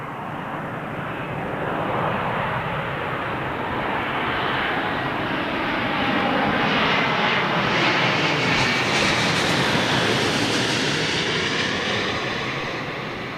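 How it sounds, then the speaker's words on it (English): A British Airways Boeing Dreamliner at London Heathrow produces a steady, broad jet roar that swells in the middle and stays loud throughout, with no talk over it. "BA Dreamliner by the looks of it."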